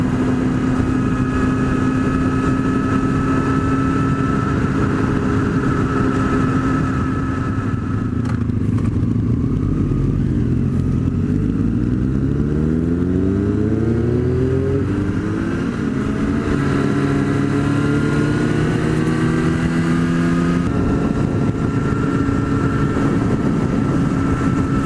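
A Kawasaki ZX-10R motorcycle being ridden: a steady, loud engine drone throughout, with rising and falling revs as it shifts through gears, heard close with no talking.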